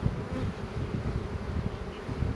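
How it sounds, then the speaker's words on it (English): Honey bees drone steadily in a hive opened in February, a close, continuous buzzing swarm with no speech. "you see there's a good number of bees all the way over in the bottom."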